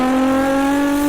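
A voice imitates the naturally aspirated engine of a Porsche 992 GT3 as one loud, steady, high-pitched wail held at a constant pitch for about a second.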